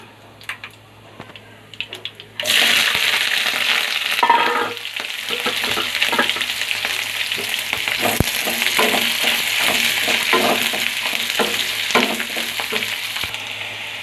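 Bitter gourd frying with curry leaves in hot oil: a loud, steady sizzle bursts in suddenly and continues for about twelve seconds, with repeated stirring scrapes and taps of a spatula, close and with no talking.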